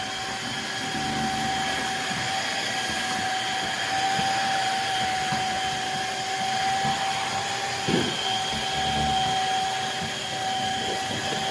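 Shark HydroVac MessMaster cordless 3-in-1 wet dry vacuum cleaner running continuously, a steady high-pitched motor whine over airy suction noise, close and even, with a brief bump midway.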